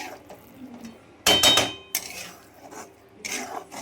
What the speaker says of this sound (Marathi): चांगलं मिक्स करून घ्यायचं आहे आणि याला बंद करून बघा